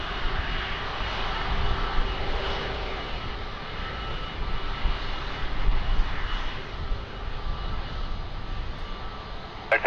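Airbus A330 of Air Transat taking off from Lisbon Airport in windy conditions, a steady broad engine roar sustained and fairly close throughout, with wind noise mixed in.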